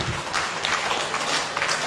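An audience applauds at a speech praising Duterte: dense, steady clapping from many hands, fairly loud and continuous for about two seconds with no pause.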